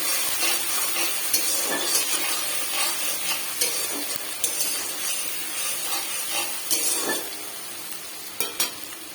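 Onion and ginger paste sizzles steadily in a hot pan while a spoon stirs it, scraping and clicking in irregular bursts over a continuous frying hiss, close and moderately loud with no talking.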